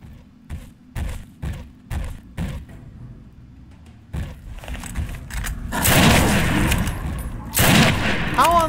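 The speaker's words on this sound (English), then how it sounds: "One of them had a Gatling laser." Rapid bursts of Gatling laser fire in Fallout 3, starting as a string of separate thumping shots and swelling into a dense, loud crackling barrage near the end, with a voice heard amid the action.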